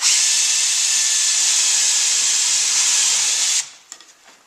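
A loud high-pitched power drill whines continuously at high speed, then stops abruptly, followed by a few light knocks and clatters.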